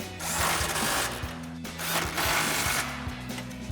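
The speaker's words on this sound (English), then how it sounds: "Now we'll grab our 21mm socket and tighten down all of our hardware." A 21mm socket tightening hardware on a 2018-2020 Ford F-150 front lower valance, with two bursts of rapid mechanical whirring and clicking, close and moderately loud, separated by a short pause.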